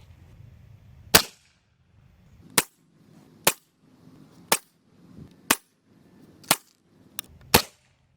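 A Diana Storm Rider PCP air rifle fired as its air tank runs low, seven sharp cracks spaced about a second apart, crisp and close against a quiet background with no talk.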